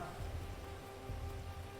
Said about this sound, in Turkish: Hava değişti. Babacım yağmur yağıyor.